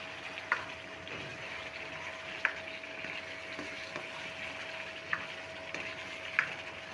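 Potatoes frying with meat in oil for aloo gosht, a steady soft sizzle throughout with a few sharp spoon clinks and stirring taps at intervals, no voices.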